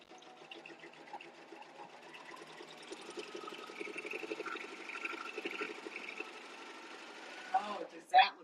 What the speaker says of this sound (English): it makes for a nice, thick serger stitch